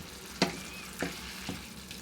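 A white wine sizzles and bubbles in a hot pan for a Bolognese sauce, steady frying hiss with three sharp clinks or stirring knocks spaced across two seconds, close and alone without talk.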